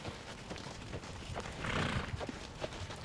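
A horse trots during a hunt seat riding lesson with soft hoof thuds, and a brief whinny rises in the middle of the short stretch.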